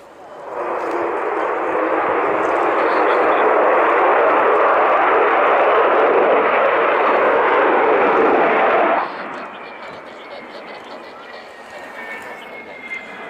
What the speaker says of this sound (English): Just a short burst on the Olympus engines there as he pulls up for that steep winger